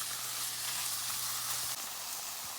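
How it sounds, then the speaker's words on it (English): Tomato paste fries in a pan for a coconut milk and mushroom salmon dish, giving a steady, close, bright sizzle that hisses evenly throughout with no talking. "I'm just gonna fry up our tomato paste a little"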